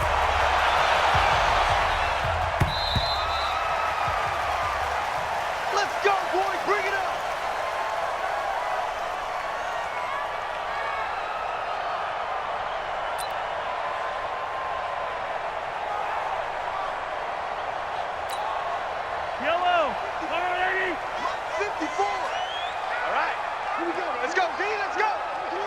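Stadium crowd roar in a Madden NFL video game, a steady broad wash of cheering behind a commentator calling play ahead of a matchup with the San Francisco 49ers.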